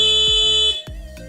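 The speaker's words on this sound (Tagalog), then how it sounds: "So nag-alarm yung busina natin" A car's stock horn wired to an alarm blares in loud sustained blasts, cut by short breaks near the end, sounding close and alone with no talk.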